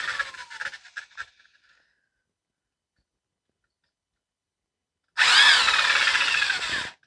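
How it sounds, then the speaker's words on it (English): An old Makita electric drill honing engine cylinders on an International Farmall 300 Utility tractor whirs loudly and steadily for about two seconds near the end, after a stretch of silence preceded by brief clattering. "I'm going to adjust my drill speed down. I'm using my old Makita."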